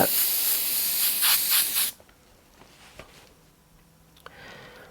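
White paint sprayed onto a driver's helmet, a loud, close aerosol hiss for about two seconds that cuts off abruptly, followed by quiet room tone with a few faint clicks.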